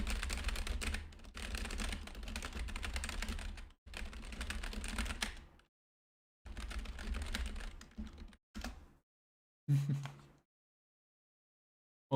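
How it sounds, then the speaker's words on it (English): Bursts of fast clattering keystrokes from a mechanical computer keyboard, close and quiet, broken by several silent pauses, with a few short isolated taps near the end. "Just gonna type random stuff."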